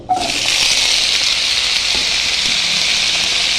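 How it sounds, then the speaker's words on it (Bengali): Potatoes and squash fry in hot oil in a wok, giving a steady, loud, close hiss that runs unbroken throughout with no voices over it. "এর মধ্যে এখন আমি দিয়ে দিচ্ছি কেটে রাখা আলু আর কোয়াশগুলো। আমি হালকা করে একটু ভেজে নেব।"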